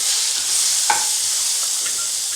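Onions and tomato frying in a pan for a pea and potato kurma: a dense, even hiss of sizzling oil, near and continuous, with one brief clink of a utensil and no speech.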